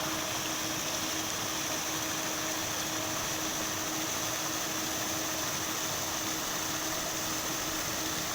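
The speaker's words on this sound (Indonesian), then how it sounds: "Beliau lagi hidupin kincirnya." A paddlewheel aerator at a vaname shrimp pond runs as a steady broadband churning roar of motor and splashing water, constant and fairly loud with no pauses.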